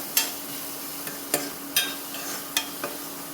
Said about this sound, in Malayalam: നന്നായിട്ട് വഴന്നു വരട്ടെ